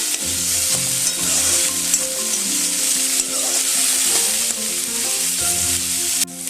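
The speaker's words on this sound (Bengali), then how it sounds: "ডুমুরগুলো একটু ভালো করে ভেজে নেব।" Figs sizzle and crackle steadily in hot oil in a pan for a vegetarian fig dish, the frying loud and continuous with occasional stirring and no talk.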